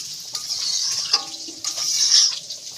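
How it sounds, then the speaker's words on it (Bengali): Water poured into a pan of sautéed soybean and potato curry, a brief hissing splash that comes in two bursts against a quiet kitchen background. "এবার এই পর্যায়ে আমি দিয়ে দেবো পরিমাণ মতো জল।"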